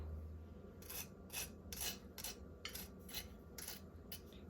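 Crispy salmon egg rolls crunch in a series of sharp, crackly bites, about eight bursts spaced roughly evenly, close up with no talking.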